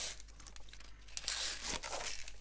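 Protective film is peeled off a newly unboxed product, making a faint, close crinkling and tearing sound over a quiet background.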